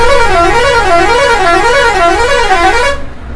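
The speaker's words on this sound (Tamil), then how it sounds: "ஹாரன் மாஸ் பண்ணுறாங்க." A loud horn on an SETC Volvo bus blares with a musical, warbling pitch that rises and falls steadily for about three seconds, then cuts off abruptly.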